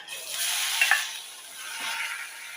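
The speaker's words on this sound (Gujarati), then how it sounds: "હવે એમાં લીમડાના પાન હિંગ ઉમેરી દઈ ને એમાં આપણે ડુંગળી ઉમેરી દઈ" Onions, curry leaves and asafoetida sizzle in hot oil over a low gas flame, a bright hiss that swells and fades with a faint stir or two.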